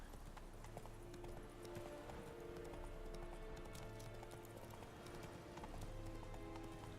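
Steady clip-clop of horse hooves trotting along at a brisk even rhythm in The Witcher 3: Wild Hunt, set against a constant background of ambient game sound and music.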